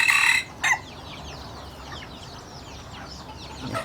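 Chickens on a Thai poultry farm: a loud rooster crow opens, followed by a short second burst, then scattered soft clucking and chick peeping at a distance.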